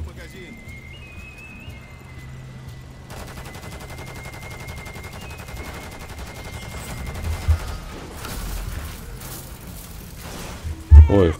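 Gunfire in the Call of Duty: Modern Warfare 3 (2023) zombies mode, steady rattling bursts under a continuous game soundscape, ending in a couple of loud heavy blasts near the close, with people talking over it.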